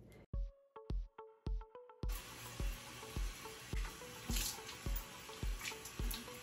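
Tap water runs and splashes in a bathroom sink while a gel cleanser is rinsed off the face, starting with a few separate drips and splashes, then turning into a steady close stream with repeated splashing as hands move through it.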